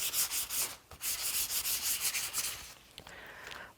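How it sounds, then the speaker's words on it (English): Sandpaper rubs briskly over a paper card in quick, rhythmic back-and-forth strokes, close and fairly loud, with a brief pause near the end. "You're going to want to sand it."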